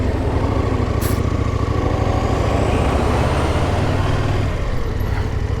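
A truck rumbles past on the road, its loud, steady engine drone filling the space close by, with a faint brief hiss near the start.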